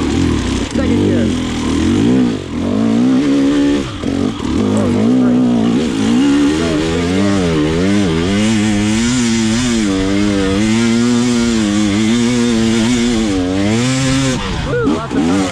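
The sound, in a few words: KTM 300xc TPI dirt bike engine revving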